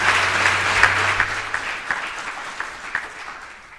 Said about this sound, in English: Let us as South Africans give them a good round of applause.